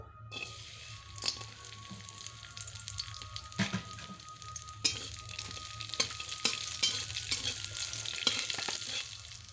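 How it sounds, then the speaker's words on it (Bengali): Cashews and raisins frying in ghee in a wok, a steady close sizzle broken by repeated clanking strokes of a spatula stirring against the metal. "কড়াইতে দিয়ে দিচ্ছি ঘি কাজু কিশমিশ হালকা আছে এখন আমি ভেজে নেবো"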